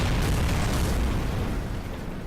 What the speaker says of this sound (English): apparently we just exploded all of a sudden